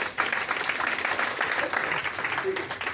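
Audience applause at a Hindi-language DXN health business seminar, a steady dense patter of many hands clapping throughout, with some voices mixed in underneath.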